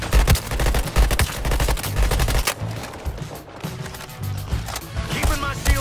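Sustained automatic gunfire in the Suicide Squad: Kill the Justice League video game, loud rapid bursts that continue almost without pause, with heavy low thumps throughout.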